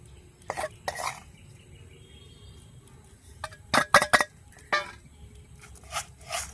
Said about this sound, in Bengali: এবার মশলাটা মাখিয়ে নেব।